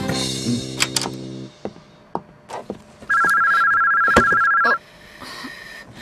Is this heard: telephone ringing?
yes